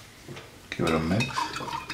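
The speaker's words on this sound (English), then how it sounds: "Give it a mix." A powdered drink mix, white and peach-flavoured, is stirred in a pouch or cup from a Canadian military ration breakfast menu, giving a short burst of scraping, clinking stirs after a quiet start, close and fairly loud.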